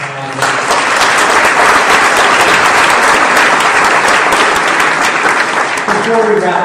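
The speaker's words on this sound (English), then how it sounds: "one more round of applause for a fantastic panel" An audience applauds a panel at the end of an evening discussion on artificial intelligence and ethics; the clapping rises quickly after a brief pause and holds loud and even, a full room of hands without speech.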